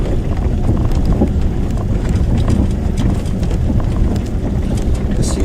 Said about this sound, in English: I see a few of these horses about.